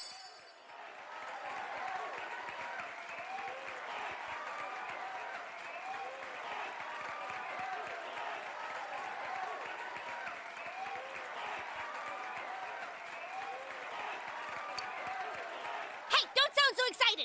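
Crowd at a concert in the Persona 4 Golden video game, a steady roar of cheering and applause held at an even level throughout, with a few sharp clanging hits right at the end.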